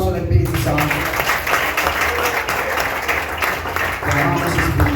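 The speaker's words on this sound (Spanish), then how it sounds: "¿Cuánto le damos un aplauso al Espíritu Santo?" A church congregation applauds during a Spanish-language sermon, steady continuous clapping throughout with a low hum underneath and some voices mixed in.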